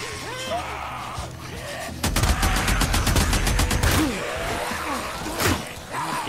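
Machine gun firing at a horde in Days Gone, a steady rapid burst of close, loud shots lasting about two seconds, with growls and a voice around it.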